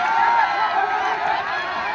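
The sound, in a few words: applause welcoming a politician at a wrestling event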